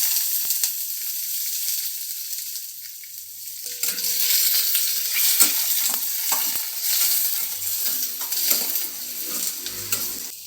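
Cumin and onions tossed into hot oil set off a loud, bright sizzle that swells midway and keeps crackling, with occasional clinks of a utensil against the pan.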